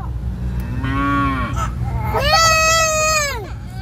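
A cow moos loudly twice in a row, long drawn-out bellowing calls close by, over a steady low background hum.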